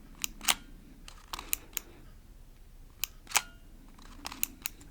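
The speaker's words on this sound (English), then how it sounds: "pick the cartridge, and put it in, and hear this out. That's how you know it's in." Several sharp plastic clicks and snaps scattered over a few seconds as a game cartridge is seated into a Nintendo 3DS handheld console, close and quiet with no voices.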